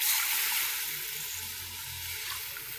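Kadhi, an Indian yogurt curry, bubbling and sizzling in a pot on the stove, a steady close hiss of simmering liquid with no talk over it.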